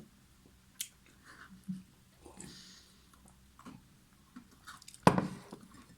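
Someone bites and chews a coconut and pistachio truffle up close, making soft, scattered crunches and wet squishy mouth sounds, with one louder bite near the end.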